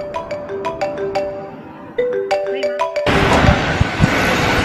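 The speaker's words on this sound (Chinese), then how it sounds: "小刘突然接到一个陌生电话。" A phone rings with an incoming call, a repeating electronic ringtone melody of bright plucked notes. Partway through, a louder stretch of room noise and background clatter joins it.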